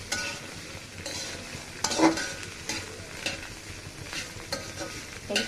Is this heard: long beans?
yes